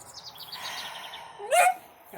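Small birds chirping outdoors around a homestead, a quick run of high tweets followed by a louder sharp call near the end, fairly close over a quiet background.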